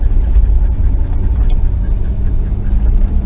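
A truck engine pulls in low range, a loud steady low rumble and whir that holds close and constant throughout with no voices.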